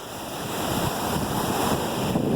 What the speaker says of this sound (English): We'll let you guys listen to the surf.